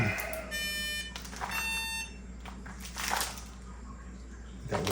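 An electronic alarm buzzer on a Circuit Playground microcontroller board gives steady high-pitched tones in short stretches over a background hum, with faint talk under it.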